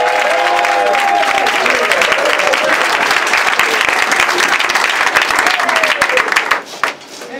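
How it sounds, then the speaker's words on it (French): Church congregation applauding and acclaiming Jesus during a deliverance service, with dense, sustained clapping and crowd voices that keep up loudly before tapering off near the end. "Est-ce que tu peux l'acclamer"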